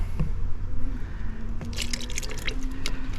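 Leftover Rust-Oleum Turbo gloss paint is poured back into its can, giving soft, irregular liquid drips and splashes against a low background rumble, with brief bursts of splattering near the middle.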